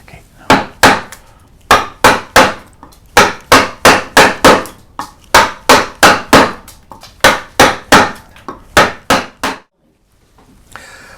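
A wood carver drives a gouge with a mallet to shape the cheek and nose of a carved Green Man face, giving steady close, loud thwacks in quick clusters with short pauses between bursts.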